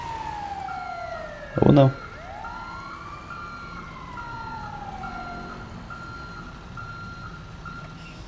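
An ambulance siren in the GTA video game wails in long falling and rising sweeps over a steady repeating electronic beep, with a brief loud thump and a voice speaking once near the start.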